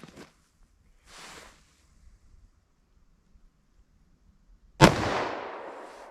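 A 10mm pistol fires a single loud, close gunshot into ballistic gel during an outdoor test; the sharp crack rings out and decays after a few seconds of near silence with faint background rustling.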